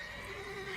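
A mare in The Witcher 3 lets out a short, close neigh with a wavering, rising whinny tone against a faint game background.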